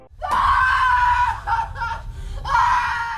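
A woman locked in a storage room screams desperately, with loud shrill cries rising and breaking off, then a final long scream, all close and alone.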